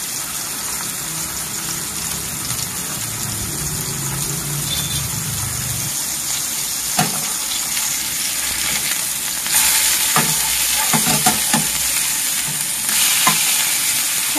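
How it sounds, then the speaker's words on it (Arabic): Kefta meat patties sizzle loudly and steadily in a hot pan, with scraping and sharp clicks from a utensil turning them over and over, close up and with no voices. "غادي نبداو نقلبوها كل مره من هاد الجهه ومن هاد الجهه"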